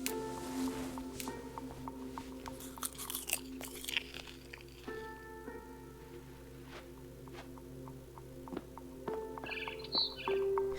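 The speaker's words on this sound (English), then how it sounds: "Then I heard chirping outside my window. It was a barn swallow going back to her nest." A barn swallow chirps in the video game What Remains of Edith Finch, with thin, scattered calls clustered near the end among crunchy chewing and biting noises over a low, sustained ambient tone.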